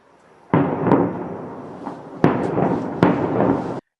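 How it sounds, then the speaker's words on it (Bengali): Missile strikes hit Beirut at night: three heavy blasts arrive one after another, each a sudden loud boom followed by a rumbling, crackling tail, with quiet before the first. "বিস্ফোরণের পর আকাশে ধোঁয়ার কুণ্ডলী এবং গুলির শব্দ শোনা গেছে।"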